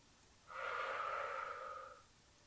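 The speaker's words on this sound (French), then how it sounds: "On respire." During a children's yoga exercise, a child takes one soft breath of about a second and a half, a gentle airy exhale heard close up in a quiet room.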